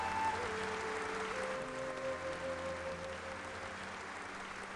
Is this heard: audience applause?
yes